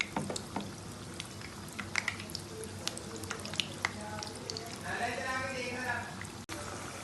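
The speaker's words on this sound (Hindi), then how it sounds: "इसको हम लोग तकरीबन 5 मिनट फ्राई करेंगे।" Pakoras frying in hot oil, a steady crackling sizzle with scattered pops and occasional utensil clicks, close and moderately loud throughout.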